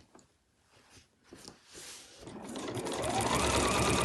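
A sewing machine stitches a seam allowance straight across a fabric cover, starting with a few short bursts and then running in a steady, fast, close whir.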